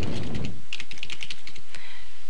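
A computer keyboard clicks out a name in a quick, close burst of keystrokes after a short rustle at the start, loud and uneven in rhythm, with no talking.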